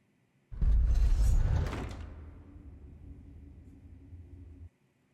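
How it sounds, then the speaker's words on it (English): Deep rumbling from a House of the Dragon episode swells loudly for about a second and a half, then settles into a sustained lower growl that continues steadily before cutting off abruptly. "Ooh, the sounds, the rumbling."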